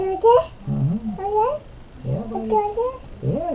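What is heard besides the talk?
cat caterwauling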